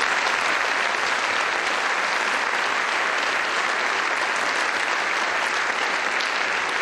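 An audience at a college orchestra concert applauds a student concertmistress, producing dense, steady clapping that fills the hall continuously without pause.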